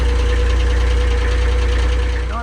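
A diesel tractor engine runs steadily and loud, with a low knocking idle throughout and a brief rising whine near the end as revs change.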